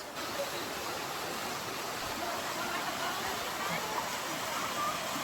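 Taginis Falls roars as a steady, broad wash of falling water, loud and continuous without pause.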